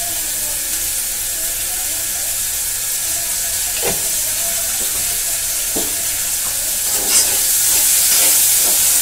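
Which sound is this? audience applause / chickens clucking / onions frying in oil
onions frying in oil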